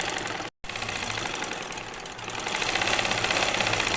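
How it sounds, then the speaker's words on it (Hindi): A sewing machine runs steadily, stitching the 1.5-inch waistband fold of a shalwar, with a rapid mechanical chatter that pauses briefly near the start, then continues, growing slightly louder toward the end. "अब ये हम नेफ़े की सिलाई लगाने लगे हैं"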